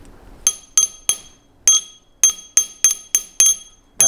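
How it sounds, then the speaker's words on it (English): A piece of hardened steel, destined for a 5tpi tandem ACME tap, is tapped repeatedly on a table, giving about ten sharp, bright ringing clinks in an uneven rhythm, close and loud with no talking. "But if I just tap this on the table"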